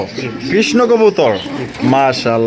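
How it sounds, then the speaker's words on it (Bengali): A Krishna pigeon coos in soft, repeated throaty calls, close by, with someone speaking loudly over much of it. "আজকে কিন্তু নয়ন ভাই জন্য আছে কৃষ্ণ কবুতর দেখতেই পাচ্ছেন"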